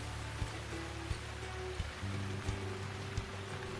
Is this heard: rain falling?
yes